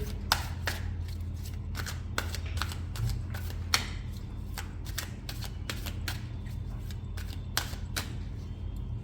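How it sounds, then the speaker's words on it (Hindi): Tarot cards are shuffled by hand close up, a rapid, steady run of papery riffles and flicks lasting several seconds over a low background hum, with no talking. "जब तक मैं कार्ड शफल कर रही हूँ"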